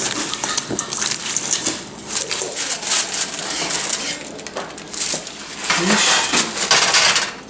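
Red leaf lettuce, sliced pears and walnuts tossed with dressing in a bowl, giving a continuous close rustling and crunching of leaves with light clinks against the bowl across the whole stretch.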